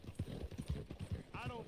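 Horse hooves clip-clop in rapid, regular beats in Red Dead Redemption 2, with a brief whinny near the end and a voice speaking over them.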